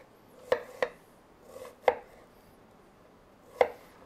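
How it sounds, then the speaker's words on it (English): A knife chops food for a German sausage dish on a board, with four or five crisp, isolated thuds spaced irregularly in an otherwise quiet room. "And we just want it cut up like this as well."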